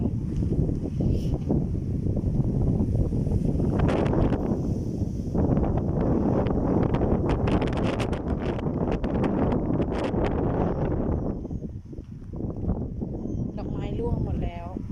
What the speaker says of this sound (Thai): ลมแรงวันนี้